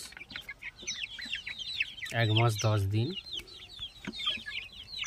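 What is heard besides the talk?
Sonali chickens clucking while eating feed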